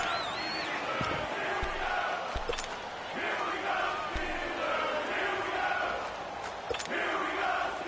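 Stadium crowd in a PS4 American football video game roars steadily throughout, with sharp impact-like thumps and brief whistling tones breaking through the continuous cheering.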